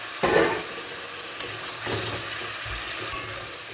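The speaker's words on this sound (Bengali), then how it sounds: "এবার এর মধ্যে এই ভাজা কই মাছগুলো দিয়ে দেবো।" Fried koi fish dropped into a simmering spiced masala for a tel koi dish give a soft, fairly quiet bubbling sizzle, broken by a few brief knocks and splashes as the pieces go in.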